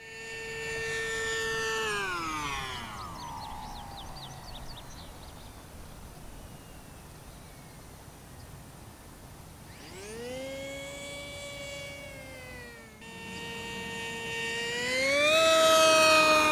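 An Aeroscout RC model airplane flies past, its small electric motor whining in long pitch sweeps that rise and fall as it climbs, passes and throttles, fading quieter in the middle before swelling loud again near the end, with no talk.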